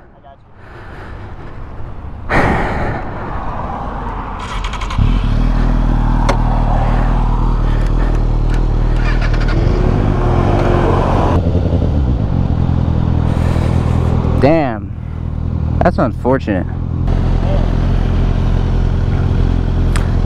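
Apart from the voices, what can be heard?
motorcycle being ridden home slowly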